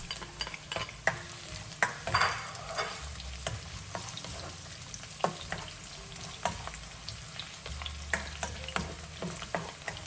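Garlic sizzles and gets stirred in a pan for kinamatisang manok, a Filipino chicken-in-tomatoes dish. A steady close fry runs throughout under frequent clicking scrapes of the spatula, with no talking.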